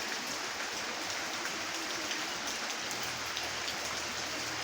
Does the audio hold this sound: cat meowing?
no